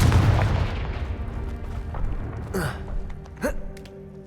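A Confringo spell blast in a Hogwarts video game, a booming burst heard over a dense, rumbling game backdrop, followed by a second, sharper swooshing blast about a second later.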